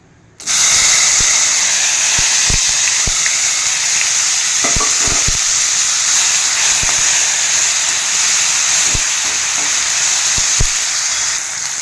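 Chopped tomatoes hitting a hot pan in a Bengali okra-mustard dish, bursting into a loud, steady hiss and sizzle that holds throughout, with scattered clicks and taps of a stirring utensil against the pan.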